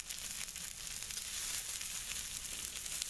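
Wild hog and deer meat sizzles steadily on a quarter-inch steel plate, a continuous bright crackling fry that holds close and fairly loud throughout, with no talking.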